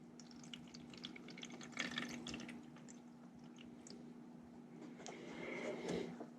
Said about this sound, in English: There we go, adding water.